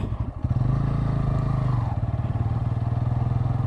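A Bajaj Pulsar N160 motorcycle engine runs nearby with a steady, throbbing exhaust note, rising briefly in a light rev before settling into a pulsing idle.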